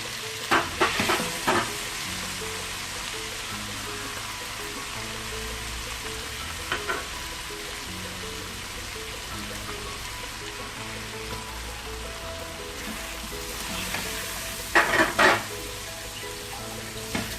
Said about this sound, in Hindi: मसाले के साथ भी हमने इसे अच्छे से फ्राई कर लिया।